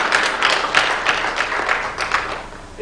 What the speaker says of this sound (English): Let's applaud Professor Charles.